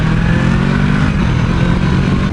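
A motorbike engine revs hard on an open-road ride, a loud, steady, buzzing drone that holds throughout with no voices over it.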